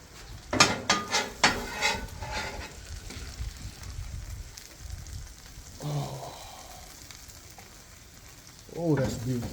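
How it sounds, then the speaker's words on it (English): Cheese for a cheesesteak sizzles on a hot griddle, with a run of sharp scraping spatula hits early on. A softer, steady frying hiss follows, and a brief voice is heard near the end. "You gotta be careful when cheese is on that grill, man. It'll burn quickly."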